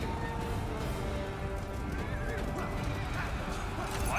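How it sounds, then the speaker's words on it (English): Horse neighing in a Three Kingdoms-era video game, a whinny rising over a busy battlefield din with clip-clop hooves and constant background noise. "Get back on our horse."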